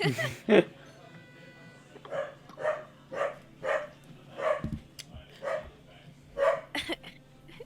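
A dog reacts to a ringing doorbell with a run of about nine sharp, evenly spaced barks, fairly close and loud, over a faint background.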